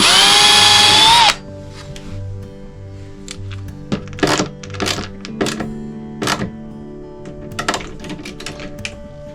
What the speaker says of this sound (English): So I take the screw out.